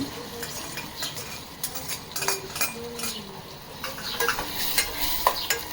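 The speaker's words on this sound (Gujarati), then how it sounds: "અહીંયા વઘાર શરૂ થઈ ગયો." Spices crackle and sizzle in hot oil for a vaghar tempering in a home kitchen, a close and steady frying hiss broken by stirring scrapes and light utensil clinks.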